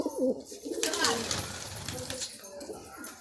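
Andhra pigeons in a large loft in Kolkata give soft, close coos, with flutters and shuffling, while someone speaks over them throughout.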